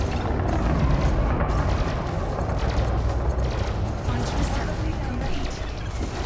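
In Elite Dangerous, a spaceship with its shields gone takes weapons fire from megaship turrets: a dense, loud rumble of booming impacts and crashes rolls on continuously.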